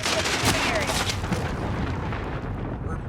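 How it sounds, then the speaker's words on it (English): Cruise missile strikes in a video game, a dense, continuous roar of explosions and rumbling blasts filling the whole stretch, loud and close, with game noise layered throughout. "Allied cruise missile away."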